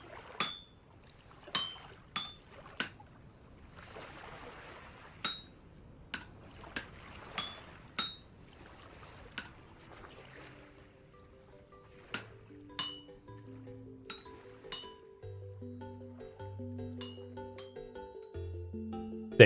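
A hammer strikes iron on an anvil while smithing in the Vintage Story game: sharp metallic clinks arrive in a steady series of about a dozen blows, some spaced wider, followed by a few more strikes over soft tonal background music.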